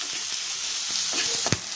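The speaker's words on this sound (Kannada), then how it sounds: "ನೋಡಿ ಈರುಳ್ಳಿ ಇಷ್ಟು ಫ್ರೈ ಆದರೆ ಸಾಕು" Onions frying in a pan for ladies finger curry, giving a loud continuous sizzle with a sharp scrape or clink of a spatula near the end.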